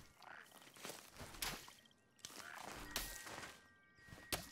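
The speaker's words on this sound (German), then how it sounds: "Ich höre Quaken." Frogs croak repeatedly at the edge of a lake with reeds in the video game Unfinished Swan, the croaks rising and falling in steady bursts with occasional soft thuds.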